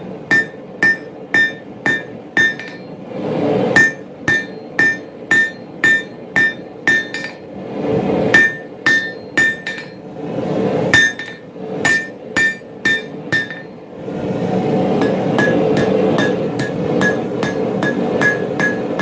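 Steady hammer blows ring on hot metal at an anvil in a forge, struck in quick rhythmic bursts with short pauses between, each hit bright and close, with a rougher scraping stretch near the end.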